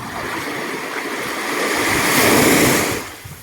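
Surf washing onto a public beach in the Philippines, a steady broad rush that swells louder toward the middle and then eases, with some wind noise on the microphone and no voices.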